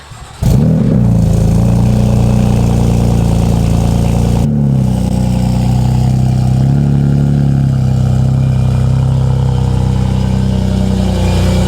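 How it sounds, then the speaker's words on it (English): A BMW F80 M3 engine cranks and fires, flaring loudly before settling into a steady, rumbling idle, heard up close with no talking. "Let's go ahead and start up the car and go for our first test drive."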